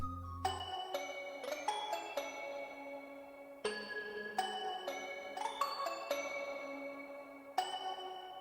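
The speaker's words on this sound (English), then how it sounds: "So I'll go ahead and play the bell by itself." Bell sample playing alone in FL Studio, a melodic pattern of bright, ringing struck tones with clean attacks and gently decaying tails, repeating phrase after phrase, soft and without voices.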